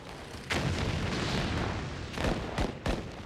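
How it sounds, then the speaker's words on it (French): Artillery shells exploding on the Verdun battlefield, a dense roar of blasts with one big detonation followed by several sharper, louder bursts near the end, loud and close. "37 millions d'obus ont explosé sur le champ de bataille de Verdun."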